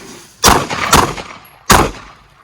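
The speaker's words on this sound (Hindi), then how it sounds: "अब ये मैं एम करके फायर नहीं कर रहा हूं, डायरेक्शनल फायर कर रहा हूं" Three loud, sharp pistol shots ring out close by, a pair in quick succession and then a third after a short pause, each fired directionally at nearby targets during self-defence handgun practice.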